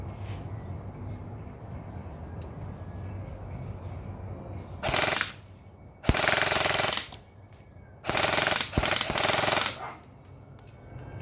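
An airsoft AEG rifle fires several loud, sustained full-auto bursts in quick succession at target practice, each a dense buzzing rattle lasting about a second, separated by short pauses until the magazine runs dry.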